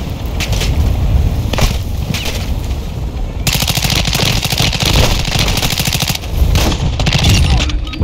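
Enemy machine-gun fire during a Call of Duty Modern Warfare 2 DMZ match: a sustained, loud, rapid rattle of automatic shots with splintering impacts, dense and close, with almost no voice.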